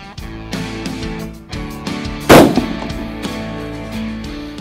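A single loud, sharp shot from a Blaser R8 Ultimate rifle cracks out midway, close and abrupt with a brief decaying tail, set against a quieter steady background hum.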